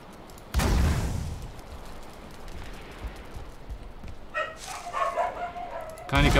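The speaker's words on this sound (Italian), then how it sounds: "Cani che abbaiano praticamente tutte le ore del giorno." Dogs bark in the Viking survival video game Valheim, with a few bark bursts heard under a player talking over game sounds.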